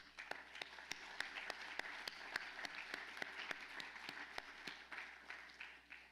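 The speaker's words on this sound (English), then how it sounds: "So let's give them a round of applause." An audience applauds at a North Carolina ROTC roundtable event: a smaller crowd with distinct, separate hand claps standing out sharply over a softer bed of clapping, steady throughout.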